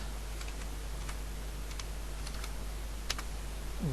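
Java code being typed on a computer keyboard in the NetBeans editor: scattered, fairly quiet key clicks in uneven bursts over a low steady hum.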